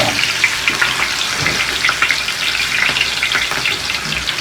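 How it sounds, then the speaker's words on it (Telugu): Green chilies and curry leaves fry in hot oil in a pan, giving a loud, close, continuous sizzling hiss with crackles throughout. "మిర్చి అండ్ కరివేపాకు ఫ్రై చేసుకోండి."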